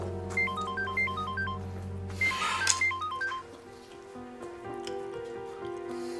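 A mobile phone ringtone plays a repeating melodic pattern of short electronic tones over background music, fairly clear and steady for several seconds.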